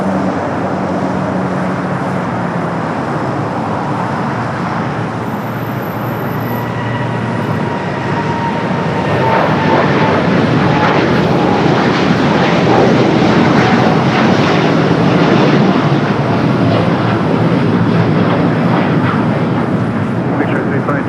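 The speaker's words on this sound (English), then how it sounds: "United Dreamliner heading to Hong Kong, flight 152. Now rolling down at 25 right." A United Boeing 787 Dreamliner rolls down runway 25 right at LAX, its jet engines building from a distant rumble into a loud, broad roar that swells and holds through the takeoff run.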